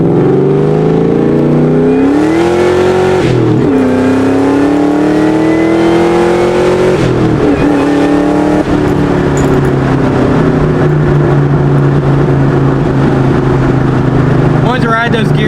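Mustang GT with BBK long tube headers, off-road H-pipe and Borla ATAK exhaust pulls hard on a rolling acceleration, engine roaring loud and close as it climbs through gears with distinct shift dips, holding a high drone throughout.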